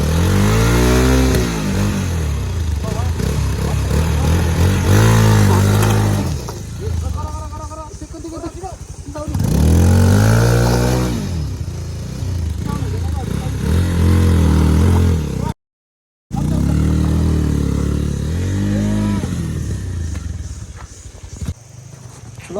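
Motorcycle engine revving and accelerating in repeated surges during a ride with friends after a fall, loud and close, with a voice talking over parts of it.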